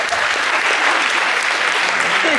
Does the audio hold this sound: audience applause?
yes